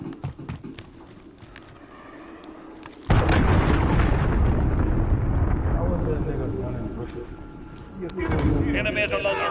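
Cruise missile explosion in an online video game, a sudden loud, close blast followed by a long rumbling roar that slowly fades, then another surge of heavy noise.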